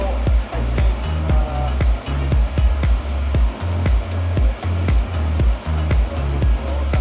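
A Toyota Yaris engine with a larger throttle body runs on a dyno, droning loudly and low with a pulsing rhythm and sharp regular ticks cutting through steadily across the run.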